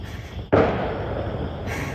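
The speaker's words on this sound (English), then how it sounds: "Dude, the fireworks." Fireworks going off during a July 4th celebration: one sudden, loud boom followed by a sustained rumbling wash that slowly fades, with no talk.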